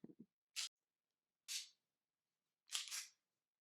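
Ruger LCP pistol trigger being pulled and released in a quiet room: a few sharp, close mechanical clicks, a pair then a single, followed by a quick double click of the reset.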